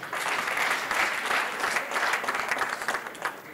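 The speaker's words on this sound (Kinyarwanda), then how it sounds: "Amashyi menshi cyane ku mubonsa." Loud, dense applause from an audience, continuous clapping filling the whole stretch.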